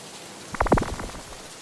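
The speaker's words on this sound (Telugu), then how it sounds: "అనుకున్నట్టుగానే వర్షం స్టార్ట్ అయింది." Rain starting in a Telugu cartoon story about a giant ship: a brief burst of splashing, pattering droplets swells for about half a second and then fades back into a quiet background, with no one speaking.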